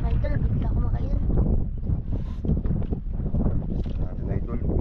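Strong wind buffets the microphone at sea during a fishing trip, a steady low roar and rumble with gusty swells, while someone talks over it.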